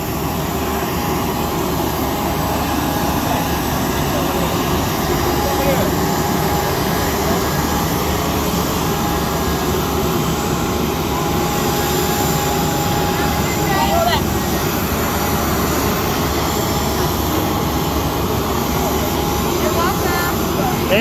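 Steady, loud broadband jet-engine roar from aircraft at an airport's private JSX Airlines terminal, continuous throughout with no clear breaks.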